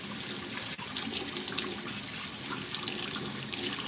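Tap water runs steadily into a kitchen sink while hands are washed clean of butter, a continuous close splashing hiss with small shifts as the hands move under the stream.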